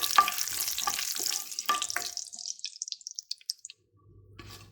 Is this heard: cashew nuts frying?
yes